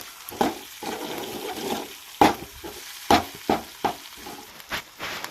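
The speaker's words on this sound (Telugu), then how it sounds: "ఇలా కలుపుకున్న తర్వాత అల్లం వెల్లిపాయ వేయాలి. ఇలా గెలకాలి. మంచిగా కలపాలి." Ginger garlic paste being stirred into a frying pan mixture, with a soft sizzle under a series of sharp spoon knocks and scrapes against the pan, close up and without talk.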